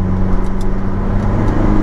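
Loud, close engine drone from an Opel Corsa OPC, a small hot hatchback, held steady under load with a constant rumble and no voices.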